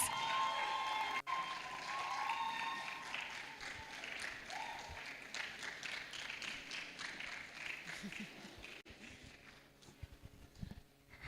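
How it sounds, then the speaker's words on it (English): A crowd at a women's conference applauds for over ten seconds, a dense, steady patter of many hands at moderate loudness, with some tonal sound mixed in early on. "a round of applause"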